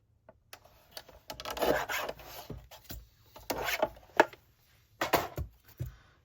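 Scrap cardstock being trimmed down to size for a die cut card, several short rasping cuts and rubs in separate bursts, close and fairly quiet with no talking.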